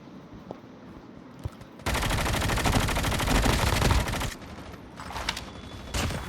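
Gunfire in the mobile game Call of Duty Mobile: quiet clicks and a few single shots, then a long dense burst of rapid automatic fire lasting a couple of seconds, followed by more scattered shots.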